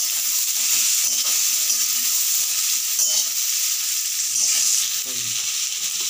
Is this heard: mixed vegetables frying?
yes